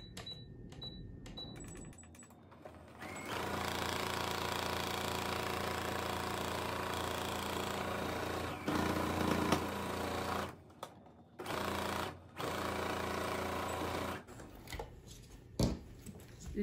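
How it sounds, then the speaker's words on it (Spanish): A domestic sewing machine stitching the side seam of a fabric bag, a steady close mechanical whirring run of several seconds, then shorter start-stop bursts with brief pauses. "ya nos quedó cosido el costado"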